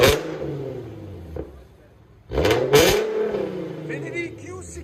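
2015 Infiniti Q60 with a 3.7L V6, dual exhaust and resonator delete, revving loudly nearby in two sharp surges that rise and fall, separated by a brief idle lull.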